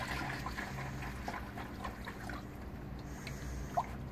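Distilled water is poured into a Honda Fit radiator, a faint, continuous trickle and splash that runs unbroken, with one brief knock near the end.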